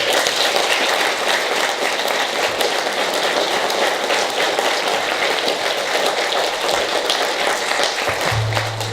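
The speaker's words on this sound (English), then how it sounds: "Let's give them a round of applause." Steady applause from a crowd at a political party candidate forum fills the whole stretch, a dense patter of clapping that continues without pause.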